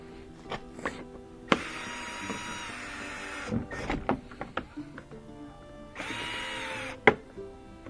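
Screws come out of an old Toyota Prius rear bumper with a cordless driver, two whirring runs separated by clicks, clatter and handling of plastic parts, close and without talk.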